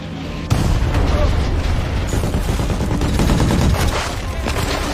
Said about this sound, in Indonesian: musuh pun kembali menyerang mereka dengan senjata mortir